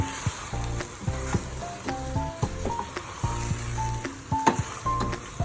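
Beef coated in rendang paste browns in a pan with a steady sizzle, broken by frequent clinks and scrapes of stirring against the metal, close and moderately loud.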